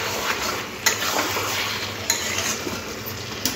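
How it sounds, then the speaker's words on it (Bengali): Chicken and potato curry stirred in a pan over low heat, a soft continuous sizzle with the spoon scraping and clinking against the metal every second or so. "একটু ভালো করে নাড়াচাড়া করে নিচ্ছি।"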